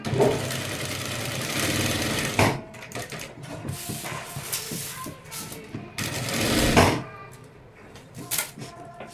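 A sewing machine runs in two loud sustained bursts while stitching around the edges of a blouse, close by. Quieter stretches between the runs carry someone speaking.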